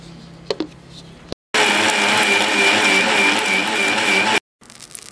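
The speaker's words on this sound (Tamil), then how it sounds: "நல்லா அரைச்சி எடுத்துக்கலாம்." Mixer grinder grinding masala paste for goat intestine fry in a village kitchen, a loud steady whirring whine for about three seconds that starts and stops abruptly, with faint clatter before and after.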